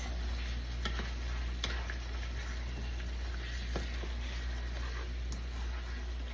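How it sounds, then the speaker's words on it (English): Rasta pasta with cream, chicken and shrimp being stirred in a pan on a lowered stove: gentle sizzling under scattered light clicks and scrapes of a utensil against the pan, with a steady low hum behind. "Give it a stir."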